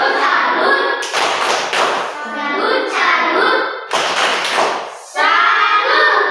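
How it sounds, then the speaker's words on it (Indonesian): A primary school class in a border-region school does a rhythmic tepuk salut clapping chant, with bursts of loud group claps and thumps alternating with children's chanted voices in a repeating pattern. "Kita tepuk salut untuk kelompok 1 dulu."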